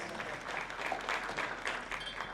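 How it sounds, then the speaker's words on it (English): Modest audience applause at a panel session of a crypto gaming conference, a soft, steady patter of clapping for a couple of seconds, fairly distant and low in level. "Please applause."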